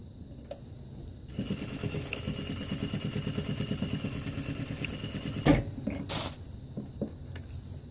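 A sewing machine stitching a zip bag runs in a rapid, even stitching rhythm for about four seconds, then stops, followed by a few light clicks and clatter nearby.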